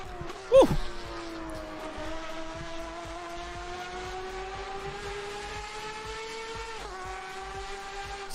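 Race cars in the Assetto Corsa sim drive with a steady, rising engine drone and a brief sharp tire noise near the start. The pitch climbs smoothly through each gear and drops at a shift near the end.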